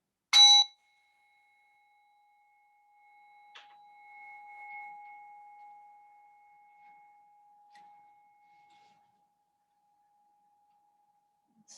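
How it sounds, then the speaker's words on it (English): During a yoga session a gong is struck softly and left ringing, a pure sustained tone swelling and slowly fading over several seconds in near silence, preceded by a brief bright chime. "you'll hear the sound of the gong"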